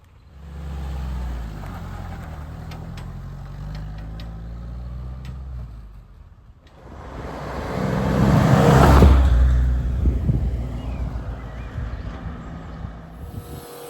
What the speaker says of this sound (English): After getting Thistle fired up, David took the Jeep for a test drive.